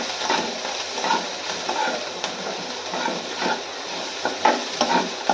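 Something frying in a pan on a home kitchen stove, with whole poppy seeds to be sprinkled over at the end; a steady close sizzle with soft scraping stirs at intervals.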